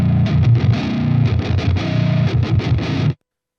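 Baritone guitar pitch-shifted down to -11 with no added processing, playing a string of heavy distorted palm-muted chugs in a tight rhythm for about three seconds before stopping abruptly.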